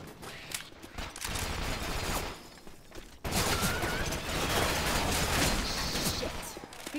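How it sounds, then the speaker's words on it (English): Weapon reloading in the Cambalache 2 shooter game: mechanical clicks and ratcheting clatter amid dense, continuous gunfire and noise, getting louder after a brief lull midway, with a voice faintly under the din. "I'ma reload."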